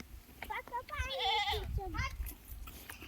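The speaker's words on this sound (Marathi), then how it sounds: "ती बकरी इवळते" Goat bleating near a rural home, a wavering cry of about a second, with shorter calls before and after and a person talking in the background.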